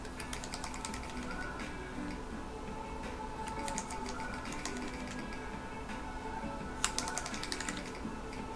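Rapid, quiet clicking of keys on a mechanical keyboard fitted with Kailh burgundy stems in Cherry black housings, irregular bursts of close keystrokes with a brief louder clack near the end.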